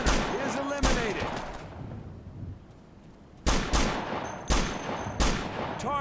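Sharp bursts of gunfire erupt in an ambush in Operation Flashpoint: Dragon Rising, a rapid volley first, then a quiet gap before three more loud separate shots.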